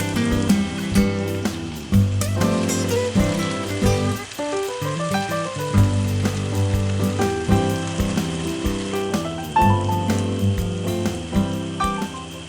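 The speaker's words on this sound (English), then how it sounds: "fry this rice a little bit raw" Rice fries in a Lodge carbon steel paella pan over an open wood fire, sizzling and crackling steadily close by, with occasional scraping stirs.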